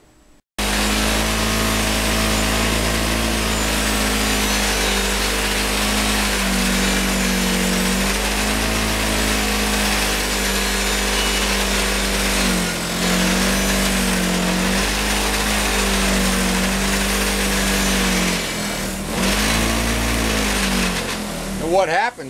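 A polishing wheel grinds rust off a Suzuki GS1100E motorcycle exhaust, its steady, loud whirring drone running continuously with slight dips in tone as the smaller, wider wheel works into tight angles.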